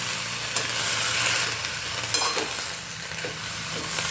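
Vegetables are stirred in a pan on the stove, giving a steady, close sizzle throughout with a few soft scraping strokes of the spoon mixed in.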